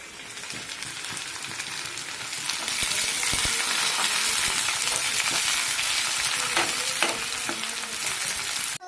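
Curry leaves crackle and sizzle in hot oil in a pan, a dense continuous frying hiss dotted with sharp pops and spatters that grows louder partway through.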